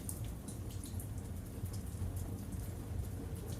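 Steady rain falls outside a bookstore at night, a continuous soft hiss of drops on the street and awnings with low rumbling underneath, even and unbroken throughout.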